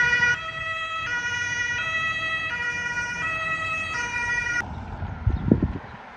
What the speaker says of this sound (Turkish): İşte bu ses Almanya'nın kendine özgü ambulans sesi.